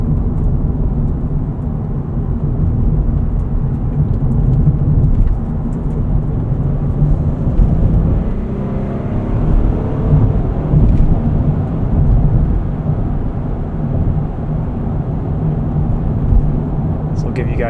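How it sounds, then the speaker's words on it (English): A 2026 Honda Passport TrailSport Elite rolls over a bumpy stretch of road, heard from inside as a constant low rumble of road and tire noise with soft thumps over the bumps. "Kind of a bumpy section of road here."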